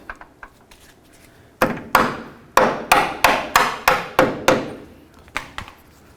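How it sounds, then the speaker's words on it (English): A rubber mallet strikes a control arm bushing on a 2007-12 Dodge Caliber, a few light taps followed by a run of about nine firm, evenly spaced blows, close and alone. "give this a couple loving bonks with your rubber mallet to get it into place"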